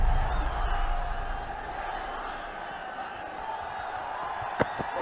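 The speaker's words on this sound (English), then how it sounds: "Crowd erupting." A cricket stadium crowd roars after a six in a Nepal versus Netherlands match, a broad, distant wash of cheering and whoops that surges at first and then settles, with a sharp pop near the end.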